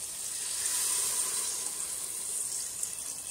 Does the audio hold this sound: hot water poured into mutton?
yes